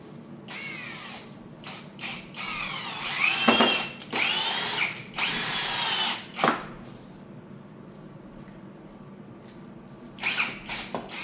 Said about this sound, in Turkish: arka tarafından vidalarını atıyorsunuz